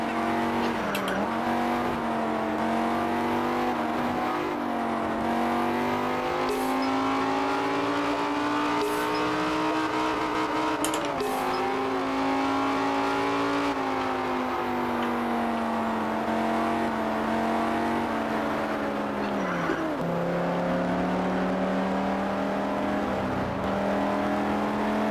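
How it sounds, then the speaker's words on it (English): A car engine in the racing game Test Drive Unlimited drones and revs continuously, pitch rising and dropping with gear changes, loud and close throughout with no talking. "For now, just enjoy the sound of the car."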